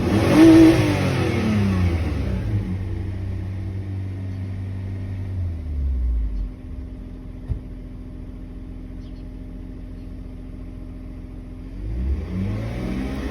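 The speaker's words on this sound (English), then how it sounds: "I'm just gonna wide open throttle." A 2003 BMW 320i engine is revved hard at wide open throttle, climbing loud at the start, then easing down into a low steady idle hum before rising again at the end.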